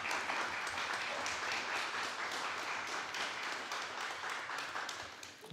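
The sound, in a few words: audience applause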